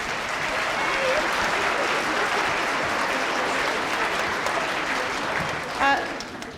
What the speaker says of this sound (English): So we can give them a round of applause before we get started.